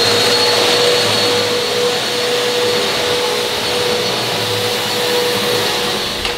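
A Eureka vacuum cleaner runs steadily at close range, a loud continuous whine and airflow roar with a constant tonal hum, holding even for several seconds.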